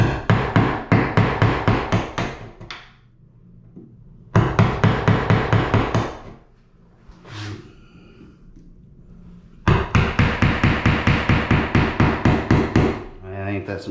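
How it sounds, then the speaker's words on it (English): A hammer drives plastic wall anchors into pilot holes in a bathroom wall in three fast bursts of sharp, rapid, evenly spaced taps. Quiet pauses separate the bursts, and a few softer knocks and handling sounds fill them. "we got our little anchors, and we're in a little pilot hole with them with our Phillips and hammer"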